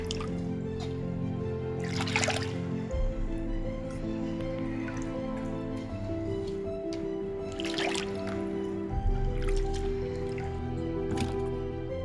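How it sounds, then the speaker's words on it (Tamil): Vallarai greens rinsed by hand in a vessel of water, wet sloshing and squishing with splashy bursts every few seconds over a constant low hum, close by. "கீரையை வந்து நல்லா அலசி எடுத்துக்கணும்"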